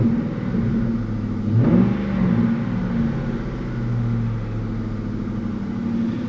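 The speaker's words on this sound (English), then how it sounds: "let's give it a little rev and you should be able to hear it." A 2004 Ford Mustang Mach 1 engine, not yet warmed up, idles with a deep rumble, gives one brief moderate rev and then settles back slowly toward idle, with no talking.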